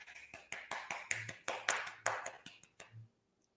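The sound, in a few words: little hand clap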